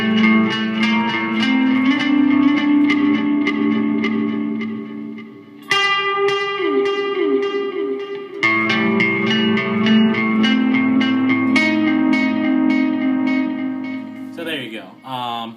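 A Firebird electric guitar with a delay effect and a touch of grit plays plucked notes whose repeats trail on and decay, in loud phrases broken by a couple of brief pauses and a final bright strum.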